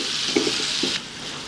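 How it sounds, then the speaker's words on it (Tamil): Onion, green chili and curry leaves sauté in a pan for shrimp gravy, giving a steady, fairly loud sizzle with a few soft stirring scrapes near the start before the hiss eases slightly. "வெங்காயம், பச்சை மிளகாய், கருவேப்பிலை போட்டு ஒரு 2 நிமிஷம் கொஞ்சம் வதங்கணும்"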